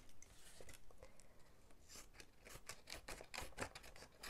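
Scissors snip through paper in a quick run of close, crisp cuts while a holiday paper craft is shaped, the snips growing denser toward the end.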